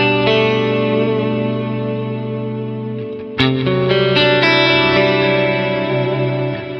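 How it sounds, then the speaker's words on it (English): Electric guitar through an Archetype: Misha Mansoor plugin with an octave-up effect, one sustained chord ringing thick and layered, then a second strum restrikes it midway and holds, with shimmering chorus-like upper tones and reverb. "If I just play a chord and let go, you can hear there's loads of low end stuff going on there, and higher end stuff as well"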